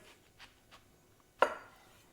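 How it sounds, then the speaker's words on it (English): A knife chops through a white onion on a cutting board, giving one sharp, close chop after a few faint light taps, with no talking. "And then I always cut onions this way."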